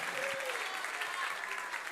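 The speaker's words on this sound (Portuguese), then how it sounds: "Quem crê nesta palavra, aplauda o nome do" Congregation applauding in a church, a steady wash of many hands clapping that fills the whole stretch at moderate level.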